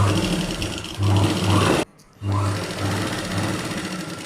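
Sewing machine stitching a 36-inch blouse runs in a loud, rapid mechanical whir, pauses briefly, then resumes, with a voice speaking over it.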